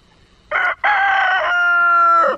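A rooster crows loudly and close by, two drawn-out calls with a brief gap, in a farmyard where chickens are being fed.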